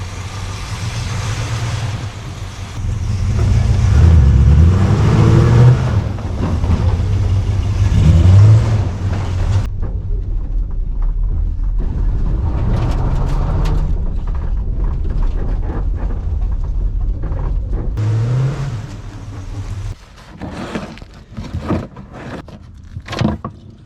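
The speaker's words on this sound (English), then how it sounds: "I'm gonna drive it all around the yard and then pull it back up." A Plymouth Roadrunner, back on the road after 25 years and trailing blue smoke, drives around a yard. A loud, rumbling engine rises and falls, drops away sharply midway, then resumes with mechanical clatter.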